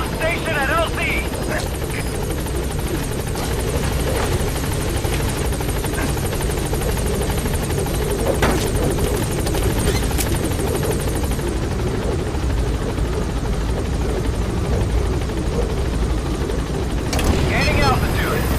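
A helicopter in the game Metal Gear Solid V: The Phantom Pain hovers at a landing zone, its loud, continuous rotor thrum and engine whine filling the whole stretch while a voice talks over it.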